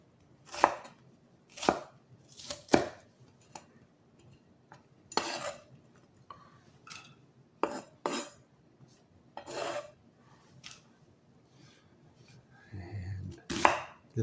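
A knife chops through an onion on a board in a series of sharp, separate thuds and scrapes, about a dozen cuts spaced irregularly, close and clear with no talking.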